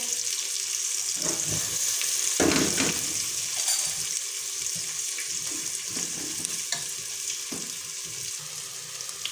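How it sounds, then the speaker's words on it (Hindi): Chopped onions frying in hot oil for a bottle gourd and ridge gourd curry, giving a steady close sizzle with a louder burst as they go in and occasional stirring scrapes, no voices. "ऑयल गर्म हो गया है। इसके अंदर मैं प्याज डाल दूँगी जो मैंने कट किए हुए हैं।"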